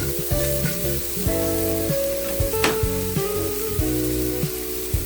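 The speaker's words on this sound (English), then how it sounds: "And you let it fry a little bit. Wait until the onions are golden brown." Onions frying with turmeric in a pan for a moringa leaf and egg fry, a steady sizzle with occasional stirring running beneath louder melodic background music.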